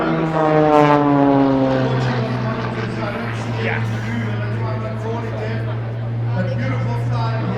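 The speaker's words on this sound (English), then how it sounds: "See how he flicks that aircraft around," A propeller aerobatic plane performs over the V&A Waterfront in Cape Town during Red Bull Flugtag, its steady droning engine loud and close, the pitch shifting slightly as it manoeuvres.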